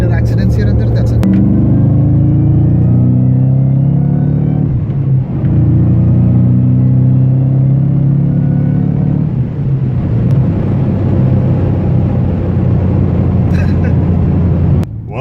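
A 2014 Ford Mustang Shelby GT500 engine gives off a loud, deep, steady rumble close by, rising slightly as it revs near the start, with people talking under the sound.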